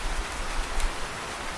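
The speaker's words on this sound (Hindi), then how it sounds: "ये तो बहुत तेज बारिश हो रही है" Heavy rain falls steadily in a cartoon scene, a dense, even hiss of downpour, moderately loud and close, with no talking.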